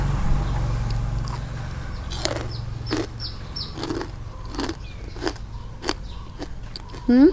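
Someone bites into crispy baked vegetables, including shiitake mushroom chips, producing a run of about eight sharp, close crunches at a steady pace over faint background noise.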